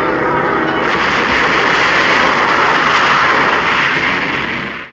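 A smoking airplane roars loud and close on a crash course toward a hangar, its engine noise a dense, sustained rushing drone that cuts off at the end.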